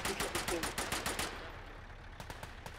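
A Bren light machine gun fires a rapid, evenly spaced burst of about ten shots in a hedgerow firefight against German infantry, then a few scattered distant shots follow in quieter battle ambience.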